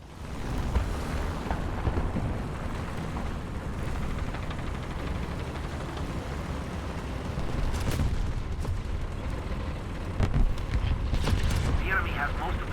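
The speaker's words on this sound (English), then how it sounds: "500-pound bomb" A 500-pound bomb goes off in a WW2 tank game, a dull, rumbling distant blast among engine drone and battle noise, with brief sharper impacts near the end.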